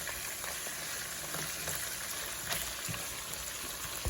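Lobster sizzles in a pan as it is basted with butter, a steady close crackle of frying fat with occasional louder spits and pops throughout, no voices over it.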